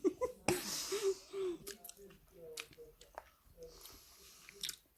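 Close, wet chewing and mouth sounds from people eating Sour Patch Kids sour candy, with breathy murmurs and brief vocal noises between soft squishy bites.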